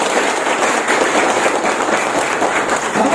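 An audience at a police district gathering applauds, a dense, steady crackle of many hands clapping throughout, fairly close and loud with no voices over it.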